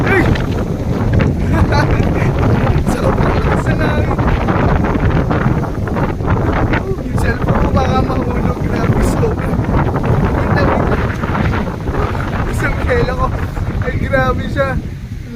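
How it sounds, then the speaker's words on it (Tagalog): Strong wind at sea buffets the microphone in a constant low roar, with people talking and laughing underneath throughout. "Sobrang lakas ng hangin, grabe."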